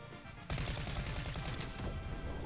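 Rapid bursts of gunfire from the video game Fortnite erupt after a brief quiet start, then continue as loud, dense, repeated shots with no talking.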